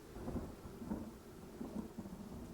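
Low, steady rumble of a thunderstorm with soft rain, distant and faint, heard alone with no voices.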